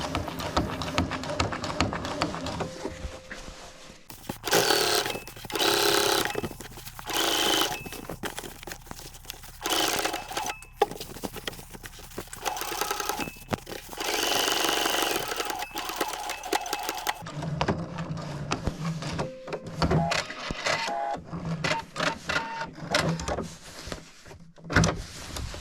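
A sewing machine runs in steady bursts as it stitches the next edge of a simple jacket collar seam with grey-silver thread, loud and close, with brief pauses between runs and no talking.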